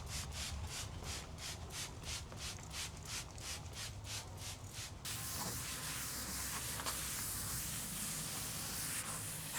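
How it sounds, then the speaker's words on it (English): Krud Kutter cleaner is sprayed onto a wooden dresser top, starting with a quick run of short rhythmic spray bursts, then shifting to steady hissing and rubbing, all soft and close. "Going in with krud kutter on the top."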